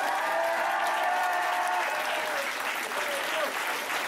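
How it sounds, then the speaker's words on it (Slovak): An audience applauds a professor at a university matriculation ceremony, with steady dense clapping filling the room and faint voices mixed in beneath it. "Veľký potlesk pre pána profesora."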